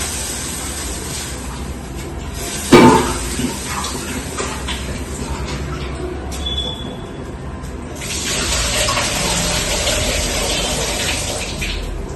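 Soaked lentils being washed under running tap water in a home kitchen, a steady close splash and rush of water with a brief knock partway through and the flow growing louder toward the end.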